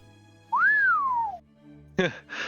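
A person whistles in imitation of an impressed dwarf smith, one clear rising-then-falling tone lasting about a second. A couple of short, breathy vocal sounds follow.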